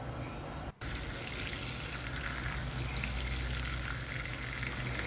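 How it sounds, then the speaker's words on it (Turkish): About 125 grams of butter melts in a pan on the stove, giving a steady, dense sizzle and crackle with a quiet stirring scrape underneath, continuous and close, broken by one brief dropout near the start. "Tereyağı iyice eriyene kadar karıştırıyorum."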